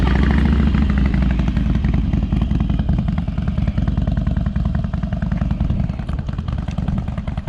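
A heavy 900 lb motorcycle ridden close by on a riding lesson, its engine putting out a loud, pulsing low-pitched throb with rapid firing beats that fade slightly as it moves on.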